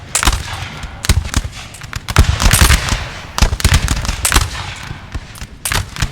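Musket volleys crackle across a Napoleon: Total War battlefield, dense irregular bursts of gunfire from many soldiers, loud and continuous with sharp clustered cracks throughout.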